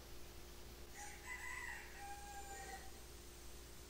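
A rooster crows once at a moderate distance, a drawn-out call rising and falling over steady low background hum, with no talking.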